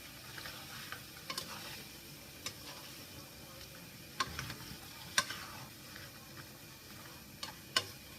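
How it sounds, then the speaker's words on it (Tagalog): Pork liver adobo fries faintly in a pan while a utensil scrapes and clicks against it in scattered strokes, over a soft, steady sizzle, quiet and without talk. "Haluin lang natin."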